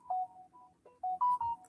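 A mobile phone rings with a synthetic melodic ringtone: short tonal notes, then a quick run of louder beeps, with no talking.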